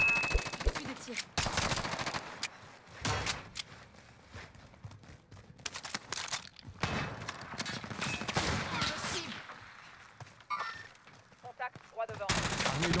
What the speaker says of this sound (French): Je subis des tirs.